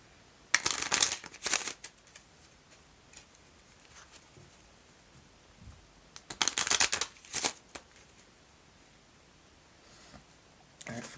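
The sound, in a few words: shuffling a deck of tarot cards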